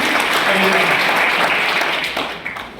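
Dense, loud applause from an audience at a Congress party political rally in Behror, a continuous wash of clapping that fades slightly toward the end of a few seconds.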